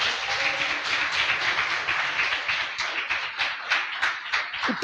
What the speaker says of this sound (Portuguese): Aplauda o Senhor nosso Deus bem forte nessa noite.